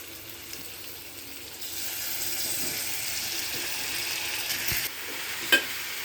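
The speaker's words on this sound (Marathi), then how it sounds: "आता हा आपला पास्ता टाकून झालेला आहे. व्यवस्थितपणे आता ह्याला हलवूया." Pasta being stirred in a pan, a continuous moderate sizzle that swells after a moment, with scraping stirs and a sharp knock near the end.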